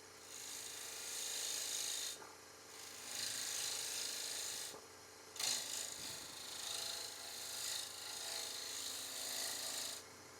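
A detail gouge cleans up the rim of a small maple bowl spinning on a wood lathe, giving a steady, close scraping hiss in long passes broken by short pauses when the tool lifts away.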